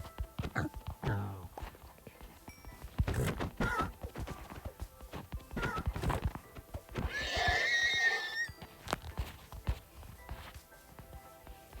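Horse neighing and hoof clip-clops in Minecraft, a long whinny midway through a busy stretch of hoof hits and thumps, close and fairly loud with no talking.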